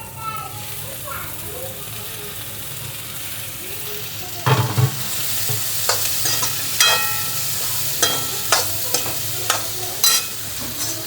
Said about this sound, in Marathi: हे सर्व 2 मिनिटं फ्राय करून घेते. चला आता याच्यात टोमॅटो पण टाकून घेते.